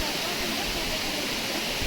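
A waterfall reached after a steep trek on the Srikakulam to Araku route pours in a steady, dense rush of broadband water noise, close and constant throughout with no clear breaks.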